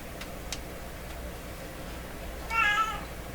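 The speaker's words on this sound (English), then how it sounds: "we're gonna have to put up with her meowing at me" A cat lets out a single short meow near the end, fairly clear over a quiet hiss of background noise with a couple of faint ticks earlier.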